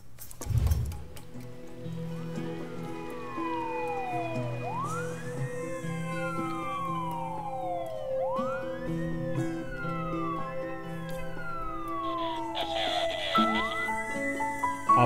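An ambulance siren in the video game SimCity V wails in repeated rising-and-falling sweeps, loud and continuous over a busy layer of steady city tones and small clicks.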